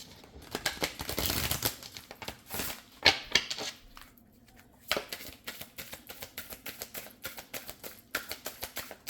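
Cards riffle and snap in quick papery bursts, close and soft, with rapid clicking flutters repeating after a brief pause.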